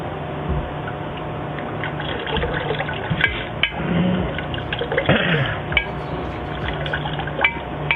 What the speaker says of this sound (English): So then you watch me just pour this around the edge.